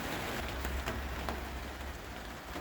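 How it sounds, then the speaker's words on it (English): Heavy rain pours down at an allotment, a dense, steady hiss of drops hitting surfaces close by, with no voices. "It's really raining now."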